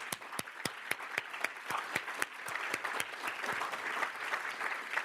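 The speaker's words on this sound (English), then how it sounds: "I think you deserve a really big applause right now already" A crowd applauding steadily for several seconds, claps dense and even, with a few sharper individual claps standing out near the start.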